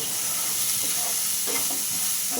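Potatoes sizzling and being stirred in a pan for sooji upma, a steady, close frying hiss with soft scraping of the spatula against the pan, no voices.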